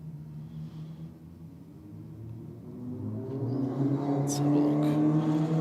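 Wide-body Evo and MR2 race cars spool up their engines side by side at a drag event, a rumbling idle that swells into louder revving toward the end, with a voice briefly talking over it.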